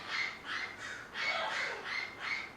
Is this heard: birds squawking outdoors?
yes